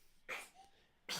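A small sneeze bursts out, followed by another sharp breathy burst a moment later in a quiet room.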